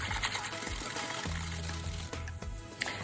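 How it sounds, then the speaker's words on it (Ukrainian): Warm milk poured into cinnamon bun dough and stirred, a close, steady liquid pour and sloshing that fills the short stretch, moderately loud with no speech. "Тепер сюди додаємо 250 мл теплого молока і це все ми ретельно перемішуємо."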